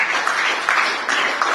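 Brief burst of audience applause at a book presentation ceremony honoring a professor, a dense steady patter of many hands clapping together for under two seconds.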